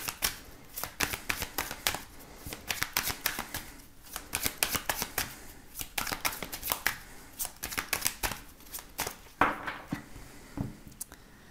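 Oracle cards are shuffled by hand in a steady run of crisp riffling and flicking bursts, close and fairly loud, lasting throughout with brief pauses between handfuls.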